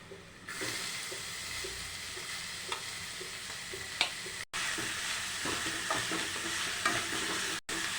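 Onions and bitter gourd fry in a pan with a steady soft sizzle, punctuated by scraping stirs of a spoon, fairly quiet and close with no talking.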